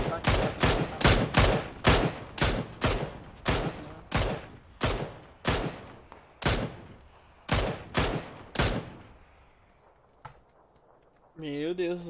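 Gunfire in the Xbox One battle royale game PUBG: a long run of loud, sharp shots fired in close bursts, spaced irregularly, fading to quiet near the end before a brief tonal game sound.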